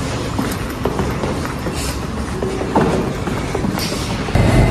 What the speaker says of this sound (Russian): Мы едем просто в метро.